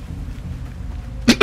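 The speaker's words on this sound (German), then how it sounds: "Da kam gerade der Husten durch, den ich mir schon die ganze Zeit unterdrücke." A man coughs twice in a short, sharp burst near the end, close and fairly loud over low background rumble from a video game.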